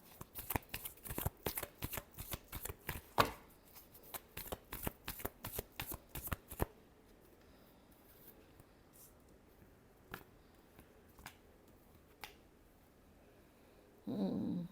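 Tarot cards being shuffled in a quick run of crisp riffling snaps for several seconds, then a few isolated taps and a short thud near the end, close and fairly quiet.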